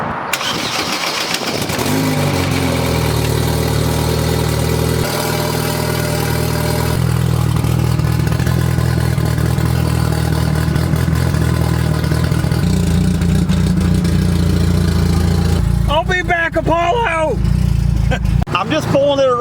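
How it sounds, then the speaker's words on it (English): A tuned, built car engine running on E85 cold-starts with a loud crank and catch, then settles into a steady, loud idle that runs throughout, with a brief rev near the end and a voice talking over it. "let's fire it up and pull it to the back. E85, cold start, tuned just enough to get the thing running."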